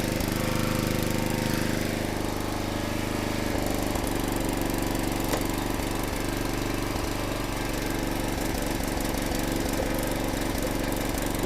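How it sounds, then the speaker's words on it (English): A log splitter motor sputters unevenly as it runs, a loud, continuous rough engine drone with irregular knocking pulses throughout and no speech. "This splitter, the motor sputtering, ain't running right, but it's working for now."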